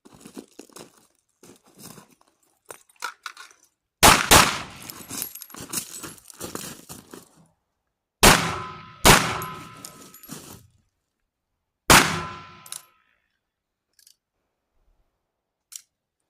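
Pistol shots ring out during weak-hand and barricade practice at targets. A few sharp, separate reports with decaying tails are spread out over time between quieter handling noises, with no voices.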